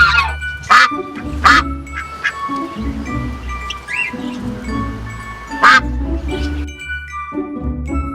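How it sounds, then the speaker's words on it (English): A duck quacks repeatedly in loud, nasal bursts over a busy background with jingling and other bird sounds, the calls irregular and close. "Duck quacking."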